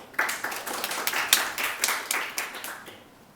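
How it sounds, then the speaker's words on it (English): Audience applause for a speaker at the HKOSCon 2019 open source conference in a hall, a moderate crowd clapping steadily at mid distance for about three seconds before fading out. "So let's give a big round of applause to the speaker."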